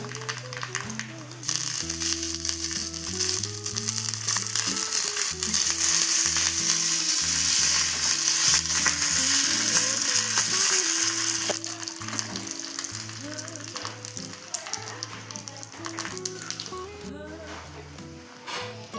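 Dry red chillies and curry leaves frying in hot oil as a tempering for Mangalore-style cucumber huli, a steady crackling sizzle throughout with melodic music playing over it.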